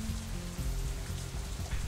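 Rain falls in the visual novel Katawa Shoujo, a steady, even hiss of drops that runs continuously under soft, low background music.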